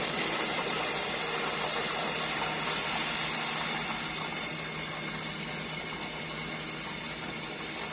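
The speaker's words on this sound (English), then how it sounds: "Now you can really hear that fry" Chicken wings deep frying in hot oil for extra crispy wings: a steady, dense hiss and crackle that holds without a break and eases slightly partway through, with no talking.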